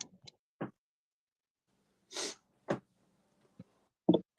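Several short, close nasal sniffs and snorts from a person with a cold break a quiet room, scattered irregularly with a breathy exhale among them.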